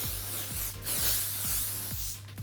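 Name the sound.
hairspray being sprayed on hair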